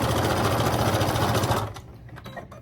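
A sewing machine stitches small darts on a pair of pants, a steady rapid mechanical whirr for about a second and a half that then stops, leaving a few light clicks and handling noises.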